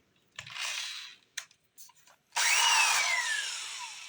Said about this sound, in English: put the drill bit in reverse.